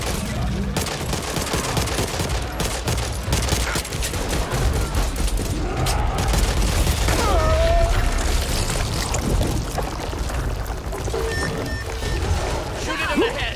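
Gunfire rattles against zombies in the Back 4 Blood game, with dense rapid bursts up close mixed with game chaos and shouting voices throughout.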